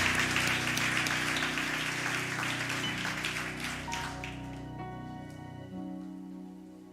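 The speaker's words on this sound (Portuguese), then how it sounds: "Aplaudimos a Jesus." A church congregation applauds with soft, scattered clapping that slowly fades out, while sustained keyboard tones hold underneath and linger on alone at the end.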